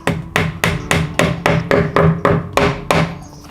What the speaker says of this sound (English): give them a tap with a hammer